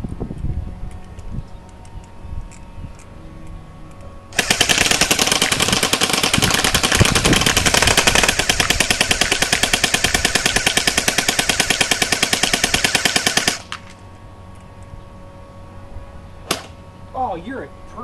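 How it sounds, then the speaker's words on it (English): A sustained burst of rapid-fire shots, hundreds of rounds aimed at squirrels, rattles loudly for about nine seconds after quieter moments, then cuts off abruptly; a few scattered sounds and faint voices follow. "we're gonna fire all 420 and then some bullets at squirrels"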